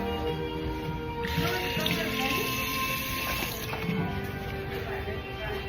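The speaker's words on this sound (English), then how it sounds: "let's do a quick hand wash here" Running water from a tap splashing steadily over hands at a sink aboard the Disney Treasure cruise ship, a continuous soft hiss and trickle with some faint background murmur.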